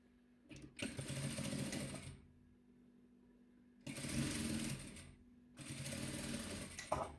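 Sewing machine stitching white thread through patchwork fabric, running in three steady bursts of rapid mechanical whirring separated by short pauses, close and clear with no talk.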